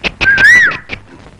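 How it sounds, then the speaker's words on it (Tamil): A single person whistles a short rising-and-falling tune at close range, one clear sustained note lasting under a second, surrounded by a few brief knocks and faint background sounds. "நீயா விசில் அடிச்ச?"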